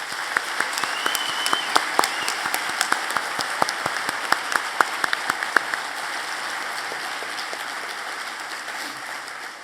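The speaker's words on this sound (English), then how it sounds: "Please join me in a round of hearty applause and thanks for all of them." Hearty applause from a large convocation audience honoring university department chairs, dense continuous clapping with sharp individual claps standing out, sustained evenly throughout.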